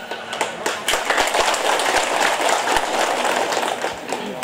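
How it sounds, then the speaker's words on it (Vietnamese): Crowd applause at a temple abbot appointment ceremony, a steady wash of many hands clapping at moderate volume for several seconds, with no talk. "đề nghị chúng ta dành một tràng vỗ tay"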